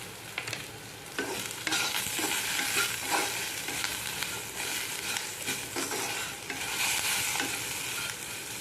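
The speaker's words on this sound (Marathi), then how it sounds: "आता मिरच्या पण जरा खरपूस भाजल्या गेलेल्या आहेत" Green chillies frying crisp in a pan, a steady close sizzle with scraping stirring strokes rising and falling over the crackle.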